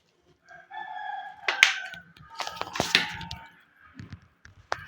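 A country rooster crows in several rising, harmonic calls close by, followed by a few sharp, short bursts and rustling, with brief gaps of quiet in between.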